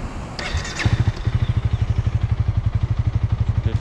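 A motorcycle engine idles close by with a rapid, rhythmic chugging pulse after a brief revving burst, the beat slowing slightly as the rider shifts gears.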